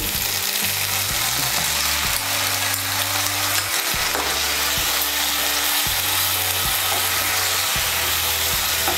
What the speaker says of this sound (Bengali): টমেটো বাটাটাকেও তেলের সঙ্গে ভালো করে মিশিয়ে নেব।